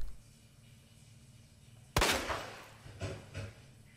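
A single sharp gunshot in the video game Resident Evil 2 Remake cracks out after a quiet stretch, followed by fainter impacts and rustling.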